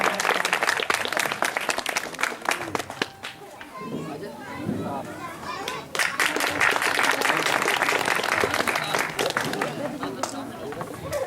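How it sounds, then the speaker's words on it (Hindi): A crowd at a village program in Kurretha, Jhansi, Uttar Pradesh bursts into loud, sustained clapping that dips briefly in the middle, where children's voices and chatter show through, then swells again, with babble of voices mixed in throughout. "जोरदार तालियां बनाई जाए।"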